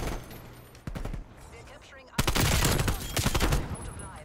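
Rapid AK74u automatic fire in the Call of Duty Cold War game, short bursts at first, then a loud sustained spray of close shots, with a few voices in the background.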